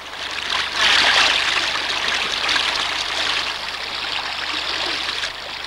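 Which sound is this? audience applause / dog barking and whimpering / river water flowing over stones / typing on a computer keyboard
river water flowing over stones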